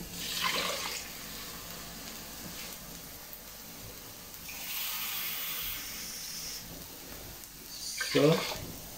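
Water is poured from a cup onto rice in a cooking pot in brief hissing splashes, first near the start, again midway and once more near the end, with quiet kitchen ambience between.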